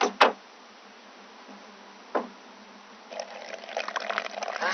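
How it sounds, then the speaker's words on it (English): Water poured over a board coated with a hydrophobic solution gives a steady, close trickle and splash that swells over the last seconds, after a couple of brief knocks. "the water simply glides across the surface"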